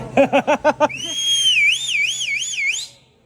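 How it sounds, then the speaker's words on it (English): A person whistles a long, wavering warbling tune at a camp hog roast, sliding up and down in pitch for about two seconds, preceded by several short rhythmic bursts of sound. "you ought to whistle again"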